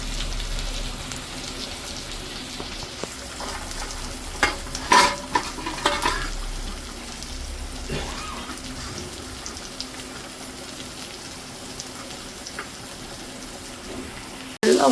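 Onions sautéing in a pan give a steady low sizzle, broken by a few louder scraping stirs of the utensil against the pan near the middle, with no talking.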